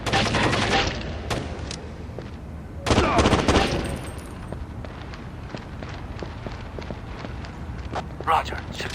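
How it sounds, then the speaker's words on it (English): Rapid bursts of gunfire in the PS2 tactical shooter Rainbow Six 3, with sharp shots and a loud volley near the start, then scattered reports and footsteps under terse radio-style voices giving commands. "Contact. Taking fire."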